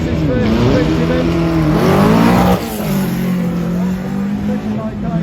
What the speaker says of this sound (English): so we'll watch the Beetle launch off the line.